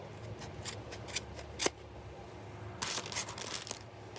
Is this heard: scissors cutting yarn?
yes